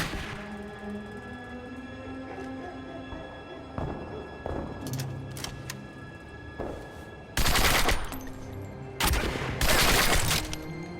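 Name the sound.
gunfire shooting in the video game Turning Point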